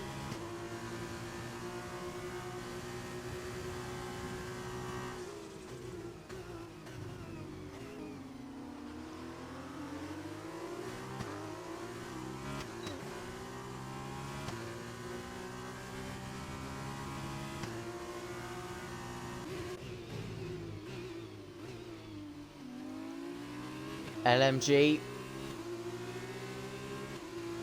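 McLaren F1 race cars in an F1 video game at the Austrian GP, engines whining steadily and rising and falling through gear changes and revs, with a faint commentary voice and a brief sharp burst near the end.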